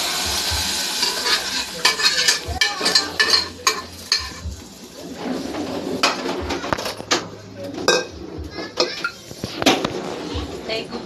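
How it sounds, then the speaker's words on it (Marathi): Cooked dal going into a hot tempering in a home kitchen pan, giving bursts of sizzling and spattering with stirring and scraping of a utensil against the pan, fairly close and loud with irregular peaks. "आता मी हे डाळ टाकून देते त्याच्यात फोडणी."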